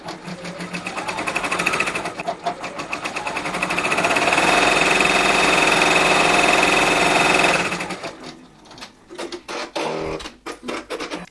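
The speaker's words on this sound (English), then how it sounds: "We're going to press lock on the sewing machine, the green flashing button, and it will now stitch the outline stitch." A Brother embroidery machine stitches an appliqué outline with a fast, close mechanical rattle that speeds to a steady whir, then slows and stops, followed by a few irregular clicks and thumps.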